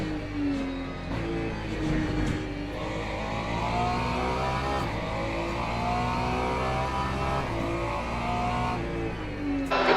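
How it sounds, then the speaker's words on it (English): Race car leaving the pit lane in Le Mans Ultimate at the 8 hours of Bahrain, heard in VR: a continuous engine drone with revving pitch changes and shifts, steady and fairly loud throughout, no talking. "There's a car leaving the pit lane."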